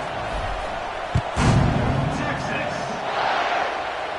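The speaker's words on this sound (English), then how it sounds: "this crowd is buzzing after that last score" Stadium crowd at a football game, buzzing after a long touchdown as the kickoff approaches: a dense, steady roar of many voices throughout, with a sharp thump and a brief swell of louder cheering partway through.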